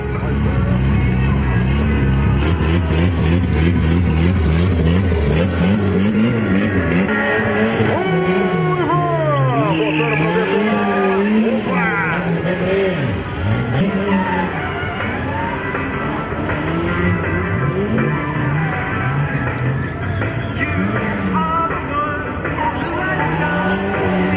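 A car spins repeated donuts with its engine revving hard and tires skidding and squealing in rising and falling sweeps, loud and continuous, with a commentator's voice partly under the noise.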